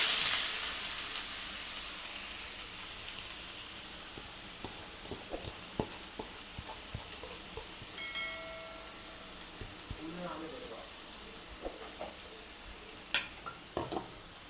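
Four chopped medium onions drop into a hot pan for squid gravy, with a steady sizzle and frying hiss and a run of clicks and scrapes from stirring. A voice speaks briefly.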